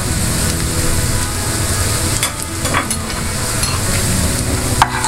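Garlic and pepper frying in a pan, stirred for a garlic sauce to go with grilled salmon: a continuous close sizzle with scraping stirs and a few sharp clinks of the utensil, no talk.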